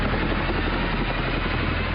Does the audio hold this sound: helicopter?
yes